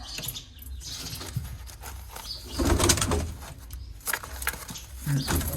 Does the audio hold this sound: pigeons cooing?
yes